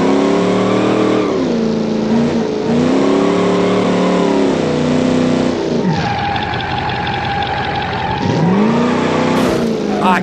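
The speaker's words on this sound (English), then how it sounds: "Like, the car is loud." A classic muscle car engine in the BeamNG driving game revs loud and close, rising and falling through several throttle pulls and a gear change, with a gritty burst midway and no talk over it.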